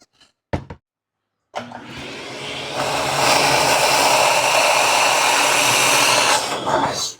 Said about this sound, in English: All right, vacuum out the plastic bits in there.